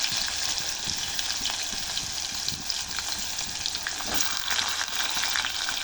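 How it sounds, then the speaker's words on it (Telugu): Chopped onions frying in hot oil with cumin seeds, a loud, dense, continuous sizzle close up, with small crackles and faint stirring, no talking. "కట్ చేసుకున్న ఆనియన్స్ని మొత్తం ఇక్కడ వేసేసుకోవాలి మంచిగా కొంచెం గోల్డ్ కలర్ వచ్చేదాకా వేయించుకోవాలి"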